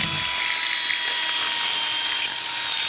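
A power drill bores a hole for a hose line near a countertop, producing a steady, loud, high-pitched whirring grind that runs continuously for a few seconds, with no talking.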